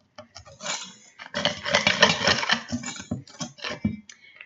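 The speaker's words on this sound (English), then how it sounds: "I kind of just dump in a little tiny bit at a time and then whisk, whisk, whisk, whisk, whisk." Dry bath bomb mixture with citric acid whisked in a bowl, rapid rattling scrapes in quick uneven bursts, close and fairly loud, alone without talk.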